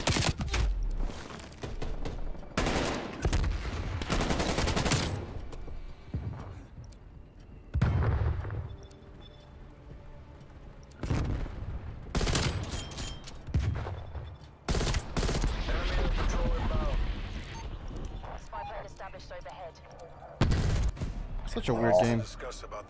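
Gunfire in Call of Duty Black Ops Cold War team deathmatch, with repeated bursts of shots and booms scattered through the match, some loud and close, others fainter, while players talk over much of it.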